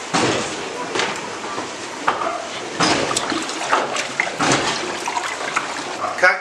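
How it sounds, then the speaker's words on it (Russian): Paper pulp is stirred with water in a vat at a Samarkand paper workshop, making loud sloshing, splashing and trickling water sounds with uneven surges. "здесь есть у нас чан, где мешается водой"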